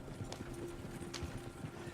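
Galloping horse hooves from Red Dead Redemption 2, a steady, rapid clip-clop rhythm running through the whole stretch at moderate, close range.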